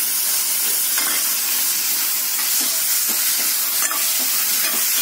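Tomatoes fry in a pan for paneer palak with a steady loud hiss and sizzle, broken by soft scraping stirs every second or so, heard close with no speech.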